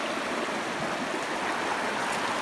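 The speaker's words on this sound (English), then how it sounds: "our pond is draining down this slope and then through a pipe" Pond water drains down a slope and runs through a pipe under a driveway on a rainy day, giving a steady, even rushing and trickling wash that stays moderately quiet with no talk over it.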